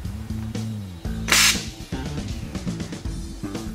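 A cleaning pig is fired through a hydraulic hose, a sharp hissing pop that stands out amid droning machinery hum in a hose workshop.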